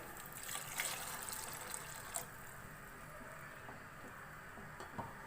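Water is poured into chana dal in a pot, making a faint, steady trickle with a few small splashes.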